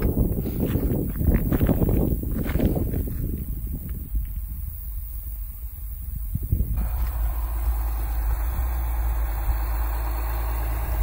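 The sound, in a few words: tractor engine idling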